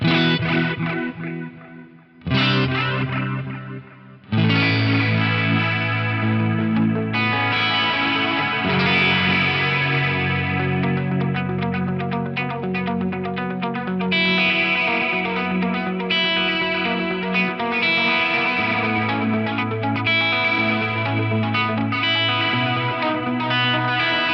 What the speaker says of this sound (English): lovely sounding Marshall kind of clean, got a little bit of extra grit in there